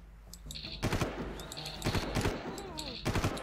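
Gunfire in the video game Far Cry comes as several loud bursts of shots in quick succession, close and sharp, with someone talking between them.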